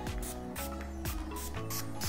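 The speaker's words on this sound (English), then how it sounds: "So all you do is spritz that onto your face" Urban Decay De-Slick makeup setting spray is spritzed onto a face in quick, close hissing bursts, about five pumps in a steady rhythm, with no talking.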